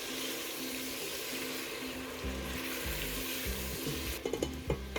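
Spices roast in hot oil in a pan for chana pulao, a steady close sizzle throughout, broken late by a few stirring scrapes and clinks.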